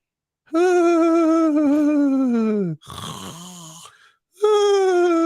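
A voice imitates snoring as a drawn-out, wailing cry like a baby, a long groaning tone, a short rasping break, then another wail, loud and close.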